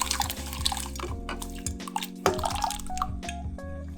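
Potatoes drop into a pot of boiling water, giving a run of wet plops, drips and splashes in quick uneven succession, close and fairly loud, with no voices.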